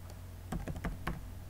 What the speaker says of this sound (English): I will click Ctrl C, press Ctrl C